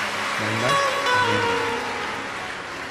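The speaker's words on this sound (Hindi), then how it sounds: "एक बार जोरदार ताली बजाकर उनका स्वागत" A large audience at a Shiv Mahapuran religious discourse claps loudly to welcome a guest, a dense, continuous wash of applause with some tonal sounds early on, fading slightly toward the end.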